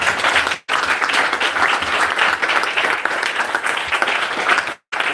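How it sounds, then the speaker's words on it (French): A church congregation claps vigorously, loud dense applause from many hands close by, broken by two brief dropouts, continuing for several seconds. "Applaudissez pour vous."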